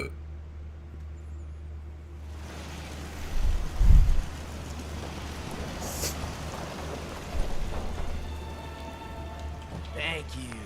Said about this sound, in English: Damn rain is soaking right through me clothes.